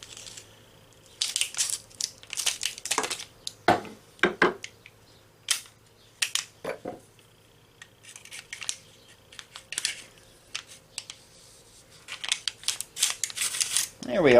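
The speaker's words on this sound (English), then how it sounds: "Let's cut this foil pack open and see what we have." Scissors cut open a foil pack holding a heat-treated karambit blade, giving a run of crisp snips and crinkling foil rustles, close and moderately loud, with quiet pauses between bursts.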